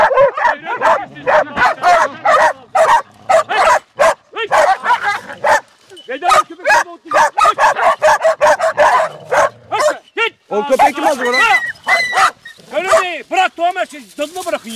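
A hunting dog on a wild boar hunt barks and yips in rapid, uneven bursts nearby, with occasional whimpers, while people talk over and between the barks.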